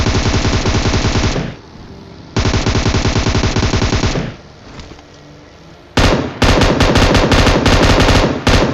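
Bursts of rapid automatic gunfire in PUBG Mobile, loud and close, come in long volleys with brief pauses between them.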